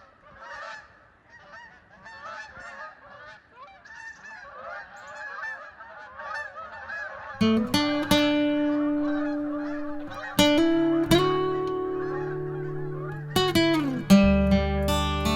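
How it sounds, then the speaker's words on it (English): Geese honk repeatedly in a loose, overlapping chorus, near and loud. Strong synthesized or musical tones enter partway through and play over the calls. "there's some good geese footage"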